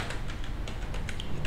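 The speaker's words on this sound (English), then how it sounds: "I will type in the address bar" Fingers tap quickly on a computer keyboard, a run of light, crisp clicks in an uneven rhythm, close by and steady over a faint room hum.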